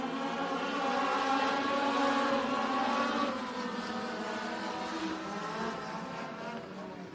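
Dirt track race cars roaring through turns 3 and 4 in a heat race at Benton County Speedway, a loud sustained droning engine whine that holds steady, then eases slightly as the pack moves on.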